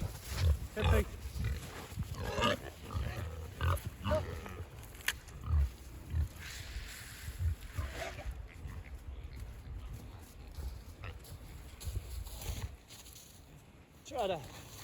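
A pig grunts in short irregular bursts in a muddy pen on a snowy winter farm, mixed with a voice talking nearby.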